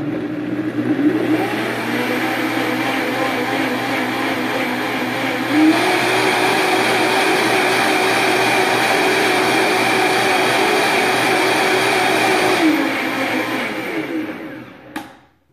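A blender mixes soy sauce (or Bragg's sauce) with four garlic cloves, a loud, steady motor whir that shifts pitch slightly partway through and winds down at the end.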